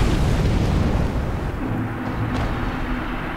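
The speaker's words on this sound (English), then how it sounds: "it's about to shoot flames" A Hellkite drake breathes flames in Dark Souls: a continuous heavy roaring rush, loud and dense throughout, easing slightly midway.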